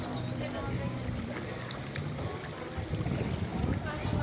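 A boat passing through deep flood water: rumbling engine and churning water noise continue throughout, loud and close, with some wind buffeting and faint voices.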